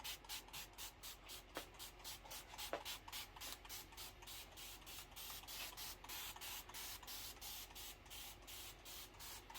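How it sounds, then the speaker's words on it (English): Repeated spritzes from a spray bottle wet the back of pillow fabric, a rapid, even series of faint hissing bursts with a few soft rubs in between. "Some of the pillows, I'm going to just spray the backside."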